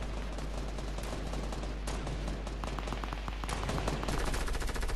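Dense, continuous submachine-gun fire in a shooter video game, rapid overlapping bursts sustained and loud throughout.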